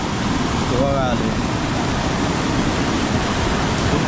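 Flooded Kajali river in a Konkan village rushes past in a constant, loud broadband roar of churning water, steady throughout with a brief faint whistle-like sound near the start.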